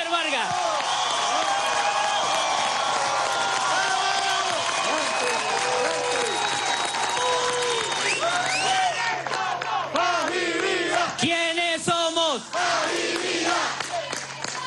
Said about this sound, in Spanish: Y un aplauso bien fuerte para nuestro secretario ejecutivo de la Comisión Presidencial del Movimiento por la Paz y la Vida, Mimou Alexander Vargas.